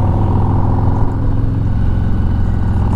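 A 2020 Harley-Davidson Police Electra Glide idling through 4.5 inch slip-on mufflers with zombie baffles, a loud, deep, steady rumbling lope heard close from behind the bike, with no talk.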